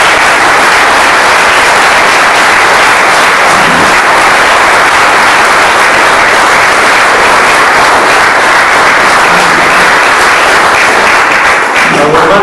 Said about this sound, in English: I'd like you all to give them a round of applause